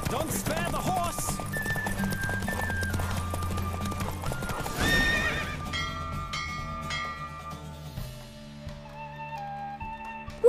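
A horse races at full gallop in The Witcher 3, its hoofbeats loud and continuous before thinning out, while bell-like chimes ring near the finish.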